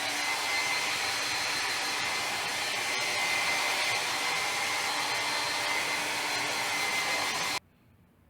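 A hair dryer blows steadily on a dog being dried after a bath, a loud continuous close whoosh that cuts off abruptly near the end, leaving near silence.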